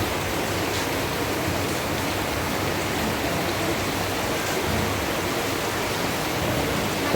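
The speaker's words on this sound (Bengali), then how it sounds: "বৃষ্টি হচ্ছে" Rain falls steadily outdoors in a garden beside lemon and rose plants, a dense, even hiss of broadband noise with no breaks and no voices.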